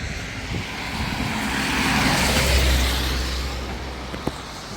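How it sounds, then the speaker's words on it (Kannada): A steady engine roar on the mountain road to Kedarnath swells and fades as vehicles pass fast nearby, a continuous rushing drone with no talk. "ಗಾಡಿಗಳು ಹೆವಿ ಫಾಸ್ಟಾಗಿ ಹೋಗುತ್ತೆ, ಹೆವಿ ಫಾಸ್ಟ್"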